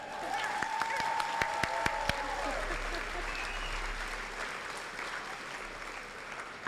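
A graduation audience applauds steadily throughout, a dense wash of clapping from a crowd at a 2025 Granby high school commencement, with a few sharper claps standing out near the start.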